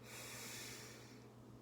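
A single sharp sniffing inhale, close and quiet, as someone breathes in through the nose during a smell-the-cake calming breathing exercise.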